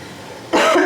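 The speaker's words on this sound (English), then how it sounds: "so excuse the coughing" A person who has been sick for weeks coughs once, a sudden loud harsh burst that follows a quiet room stretch and carries through to the end.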